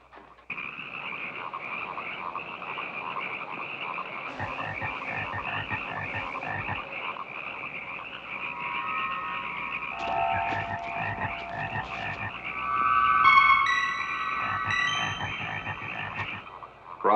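Many frogs croak together in a dense chorus of overlapping, rhythmic calls and trills, steady and moderately loud, with a few sharper calls rising above the mass.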